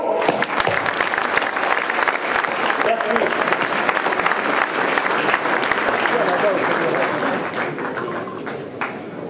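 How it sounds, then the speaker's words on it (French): Audience applause fills the room at the inauguration of a Fiat car dealership, a steady dense clapping that runs for the whole stretch and thins slightly near the end, with a speaker's brief thanks heard over it. "Laissez-moi tous vous applaudir."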